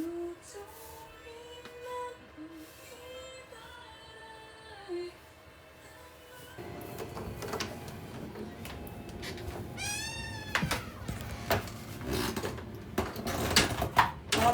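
Several cats meow indoors, starting faint and intermittent, then a louder stretch with rising, repeated meows near the middle over busy room noise and clatter.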